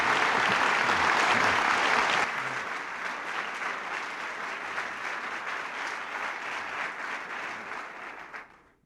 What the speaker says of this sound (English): I think George and I should be applauding you